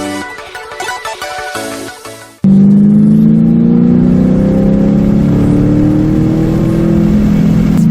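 A car accelerates hard after a brief stretch of music, its engine revving loud and steady with a rising whir as it drives around a one-way island road.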